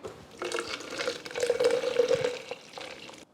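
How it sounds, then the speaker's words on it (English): Water pours into a fermenter to wash down leftover syrup while brewing Coopers Dark Ale, a steady splashing and gurgling fill lasting a few seconds at moderate volume with no talk. "now we're going to put the remainder of the water"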